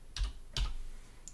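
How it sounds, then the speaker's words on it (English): A computer keyboard typed on: two soft key clicks close together, then a faint third, quiet and close, without speech. "So if you just go into the search and just type in WP Edit"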